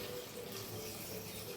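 Water poured into a cooking pot while preparing a meal, a quiet steady splashing trickle heard alone for a moment.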